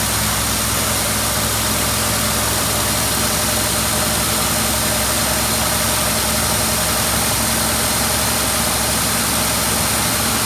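The engine of a 1953 Dodge B4B truck runs loud and close at raised revs, a dense, sustained roar with heavy low rumble that stays steady throughout, with no voices.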